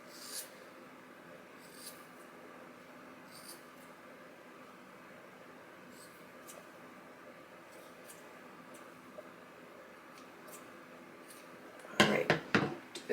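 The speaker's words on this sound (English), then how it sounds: "So here we go, cutting the layers." Scissors cut layers of hair at home: faint, scattered crisp snips over a quiet room hiss, ending with a louder, denser burst of close crunching cuts.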